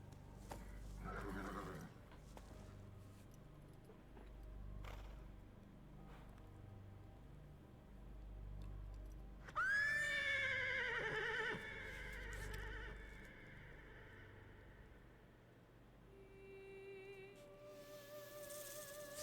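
A horse in the video game Metal Gear Solid Delta: Snake Eater gives one loud, wavering neigh partway through. Soft hoof clip-clops and a low ambient bed come before it, and faint game tones follow.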